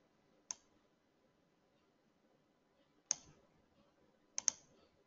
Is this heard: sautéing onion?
no